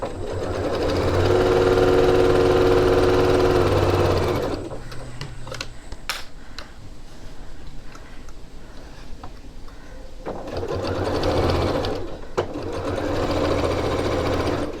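A sewing machine runs in loud sustained bursts while stitching a half-inch seam on a reversible tote bag, with a long steady run, a quieter pause with small clicks, then another burst of stitching.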